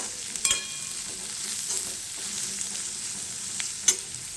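Shredded cabbage sautéing for vegetable noodles, an even close-up sizzle with a couple of sharp utensil clinks against the pan and no talking.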